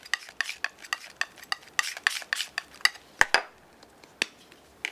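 Acrylic paint being mixed on a palette, a run of sharp rhythmic taps and scrapes from a brush or knife, roughly two per second, loud and close, without speech.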